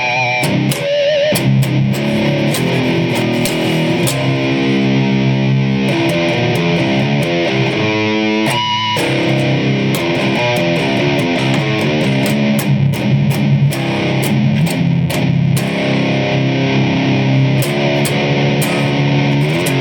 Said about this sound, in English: We're in my favourite territory, which is the more distorted tones. We're in the bridge position and we've got the tone cranked up